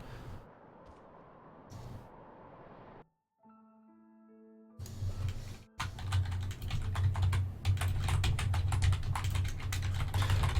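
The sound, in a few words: typing on a computer keyboard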